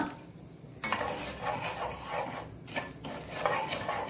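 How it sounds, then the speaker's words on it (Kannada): Fenugreek, cumin and plenty of curry leaves fry in a pan for a Tulunadu-style bottle gourd and bimbli sambar, giving a steady close sizzle with a few scraping stirs. "ಸ್ವಲ್ಪ ಹೆಚ್ಚೆ ಕರಿಬೇವಿನ ಸೊಪ್ಪನ್ನು ಎಲ್ಲ ಹಾಕೊಂಡು ನಾವು ಇದನ್ನು ಸ್ವಲ್ಪ ಫ್ರೈ ಮಾಡುವ"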